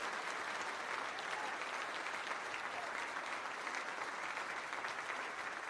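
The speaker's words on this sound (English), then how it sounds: "You can let a clap come up, it's fine" An audience at an online masterclass celebration applauds in a steady, continuous patter of many hands clapping, faint and distant throughout without pause.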